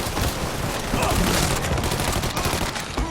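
Gunfire in the Mafia 3 video game: a loud, dense barrage of overlapping shots and bursts, close and continuous for its whole length, with a voice faintly mixed under the firing.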